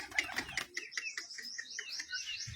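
A racing pigeon comes in to land, with quick fluttering wingbeats and a few light chirps close by, soft and clear against a quiet background.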